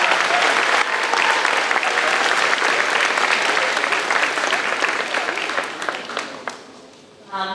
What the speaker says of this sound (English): One more round of applause for our department rock star